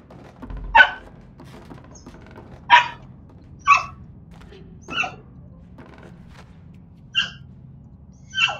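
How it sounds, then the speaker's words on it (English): A puppy barks at a big dog to get it to play: six short, sharp yips spaced a second or two apart, fairly close, with a quiet room murmur between them. "She's barking at the big dog to play."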